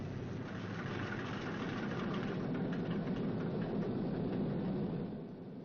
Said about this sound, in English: That's a new engine they just put in there. Maybe it's a little bit cranky.